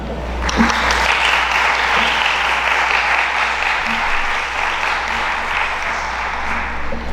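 A seated audience at a round-table session of a choral singing and church choir congress applauds its guests, steady broadband clapping that holds evenly loud for the whole stretch without a break.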